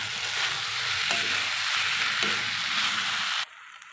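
Half-boiled potato pieces sizzling and being stirred into egg masala in a pan, a loud continuous frying hiss with scraping stirs, cutting off abruptly near the end.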